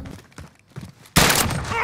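A shotgun fires in a video game, a sharp loud blast that cuts in abruptly after a few quiet clicks and scuffs, followed by a dense sustained wash of noise.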